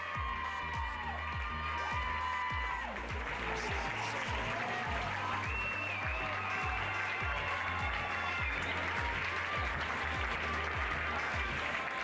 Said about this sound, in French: Allez-y, pour les applaudissements, on y va.